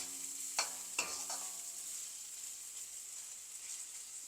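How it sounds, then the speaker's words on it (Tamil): Bitter gourd frying in a pan with green chilli, curry leaves, onion and salt, giving a steady close sizzle, with a couple of sharp scraping stirs early on and no talking. "இன்னும் கொஞ்சம் ஃப்ரை ஆகட்டும்."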